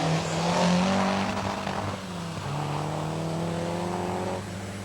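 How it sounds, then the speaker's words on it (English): Ford Escort rally car racing through a stage of the 1980 Ulster Rally, its engine loud and close with a strong revving drone that eases slightly midway and then holds steady as it drives on. "And in the escort from Lisburn is Mark Crowe."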